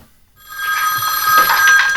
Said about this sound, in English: Janet, what took you so long to answer the phone?